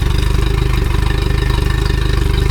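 An outboard boat engine idles steadily during a test run, a close, loud, even low rumble with a fast regular pulse and no talking over it.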